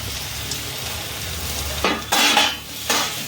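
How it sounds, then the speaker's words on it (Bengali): Potatoes dropped into a hot frying pan for a Bengali aloo chokha dinner, a steady sizzle of frying oil broken by loud bursts of scraping and stirring with a spoon against the pan. "আলুগুলো দিয়ে এবার ভালো করে নাড়াচাড়া করে নিচ্ছি।"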